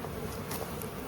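Honeybees from a colony cut out of an abandoned shed buzz in a close, continuous drone, a steady hum of many wings with no voices over it.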